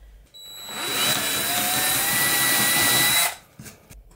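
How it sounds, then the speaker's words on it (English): A power drill spins up and bores a magnet-depth hole for about three seconds with a loud, high whine, then winds down and stops. "I'm going to drill a hole approximately the depth of this magnet"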